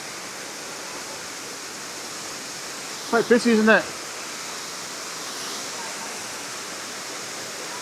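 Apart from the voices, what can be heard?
waterfall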